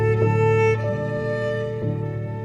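Violin and piano play together very quietly and intimately, miked close, with a sustained low piano tone under a soft bowed violin line; no voices.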